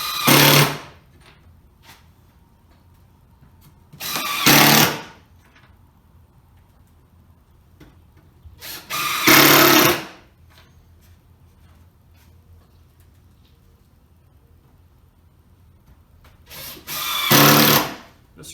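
A power drill drives screws into wooden board-and-batten shutter boards in four separate loud whirring bursts, each a second or two long, with quiet pauses between and no talking.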